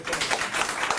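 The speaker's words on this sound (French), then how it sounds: "On les applaudit très" Brief burst of audience clapping at an interfaith gathering, many hands applauding together at moderate loudness, dense and even across the short moment, no voices over it.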